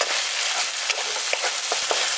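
Spice masala sizzles and fries steadily in a pan for prawn biryani, a dense crackling hiss with occasional stirring scrapes and pops, close and continuous.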